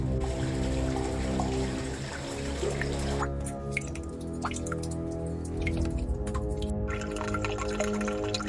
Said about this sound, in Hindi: साफ पानी के चश्मे बह रहे हैं